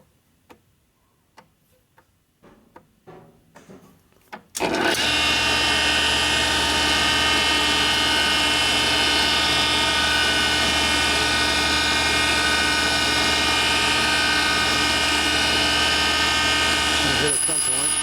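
A high-speed grinder cuts into the intake port of a 1977 1000cc Sportster Ironhead motorcycle engine, starting abruptly after a few faint clicks and handling noises and then whining loud and steady, close up, until it winds down at the end.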